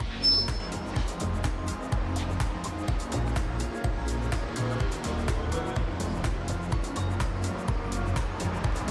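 A wheel balancing machine spins a Hyundai Tucson tire with a steady mechanical whir, overlaid with repeated rhythmic clicks and thumps from the rotating wheel, all at close range.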